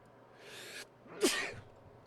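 A single person sneezes, a quick breathy inhale followed by a sharp, loud burst, close and alone with no talk around it.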